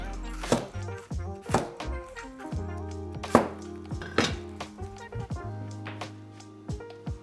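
A knife chops onions into quarters on a board, with irregular sharp close knocks spaced a fraction of a second apart and faint kitchen clatter between them.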